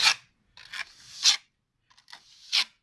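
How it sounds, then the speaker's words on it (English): The back end of a trowel shoves mortar mix into a crack in an outside wall, making four short, close, gritty scrapes separated by brief pauses. "using this trowel, the reverse end, back end, shoving it, pushing the mix into the crack"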